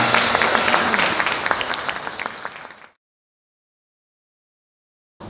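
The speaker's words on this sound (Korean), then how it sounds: "따뜻한 박수 부탁드리겠습니다." Guests at a wedding ceremony in a wedding hall give warm applause, a loud, dense burst of clapping that gradually thins and then cuts off abruptly into silence.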